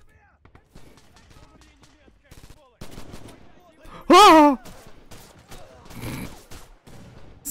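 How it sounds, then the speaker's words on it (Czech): Gunfire in a World War II shooter video game: a few faint shots scattered through the clip, then one loud, close burst, with someone talking and exclaiming in between. "Kde ty všechny rány šli vedle?"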